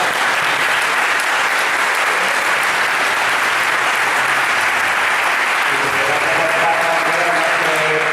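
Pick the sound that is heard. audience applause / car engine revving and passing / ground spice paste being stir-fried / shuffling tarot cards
audience applause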